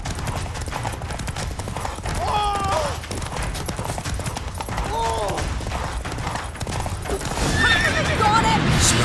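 Roach, Geralt's horse in The Witcher 3 video game, gallops with rapid hoofbeats and lets out several loud neighs, its whinnies rising over the hooves amid game effects and bursts of voices.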